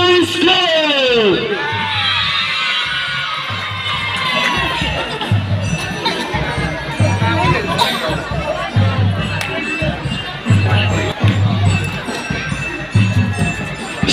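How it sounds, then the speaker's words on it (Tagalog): Loud crowd of elementary schoolchildren at a district athletic meet in Bocaue, cheering, shouting and whooping continuously with high-pitched voices over a steady rhythmic thump of drumming. "At hiyawan na magmumula sa Bocaue Hills Elementary School"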